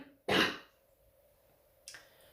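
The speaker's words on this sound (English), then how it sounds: "I'm going to cough." A single short, breathy cough comes up close, followed by a quieter second burst a moment later.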